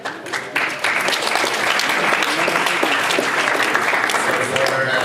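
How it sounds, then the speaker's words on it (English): Loud, sustained applause from a large crowd at a graduation ceremony, starting with a few scattered claps and swelling into dense, continuous clapping with some cheering. "give them one massive round of applause"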